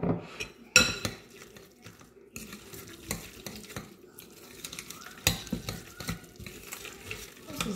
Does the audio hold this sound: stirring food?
yes